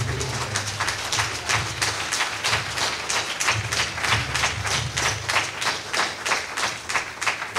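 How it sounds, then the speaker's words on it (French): Audience applause at an evening event in Cotonou, a steady crowd of hands clapping continuously and fairly close, with rapid overlapping claps throughout and no talk. "je vous demande de vous applaudir vous-même"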